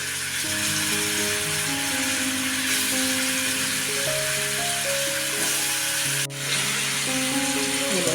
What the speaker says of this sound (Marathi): फक्त तुपावर परतून घ्यायचे, दुसरं काही करायचं नाही